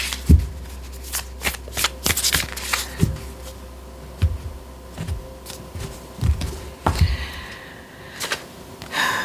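Oracle cards are shuffled by hand, giving a series of sharp, close riffling snaps and soft slaps spaced a second or so apart, with quiet background and no talk.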